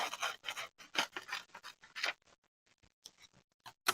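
Scissors cut through a sheet of paper in quick, close snips, a dense run of crisp cuts followed by a few sparse, quieter ones near the end.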